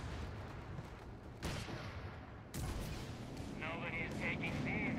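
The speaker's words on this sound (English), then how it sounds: "Move that vehicle back. It's getting mortared." Mortar fire striking a vehicle in Company of Heroes 3 amid WWII battle noise: a couple of heavy booming impacts over rumbling gunfire, with talk in the background.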